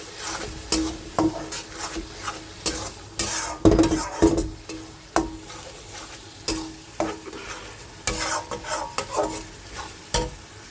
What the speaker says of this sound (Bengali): এবার পুরোটাকে কষিয়ে নেবো সুন্দর করে।